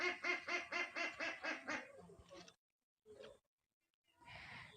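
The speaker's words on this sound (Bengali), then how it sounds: "হাঁস মুরগির এত আওয়াজ হচ্ছে" Ducks and chickens in a yard in the evening give a rapid run of repeated honking quacks, loud and close, then a short burst of calls and a fainter stretch of clucking after brief silences.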